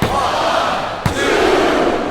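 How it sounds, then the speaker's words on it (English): Crowd noise in the WWE SmackDown vs Raw 2007 wrestling game on Xbox 360: a loud, dense arena roar of massed voices chanting, steady throughout with a brief sharp thump midway. "the crowd has come alive tonight with a chant"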